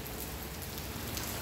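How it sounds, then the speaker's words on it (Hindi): Heavy monsoon rain pours steadily in Jalandhar, Punjab, a dense, continuous hiss of drops on surfaces that stays close and loud throughout with no talking. "आज बारिश फुल बारिश है"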